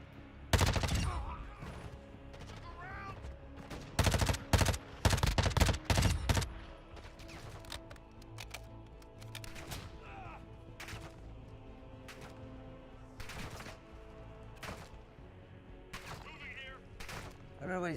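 Video game gunfire opens with a close shot, then dense rapid bursts of automatic fire, before thinning to scattered, quieter single shots and distant pops.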